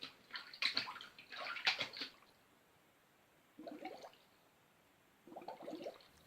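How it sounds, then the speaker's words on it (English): Swimming strokes underwater in a video game's sound design, muffled by a low-pass filter: three faint splashing, churning bursts of water separated by quiet pauses, with no voices. "when underwater value is true, it plays a swimming sound"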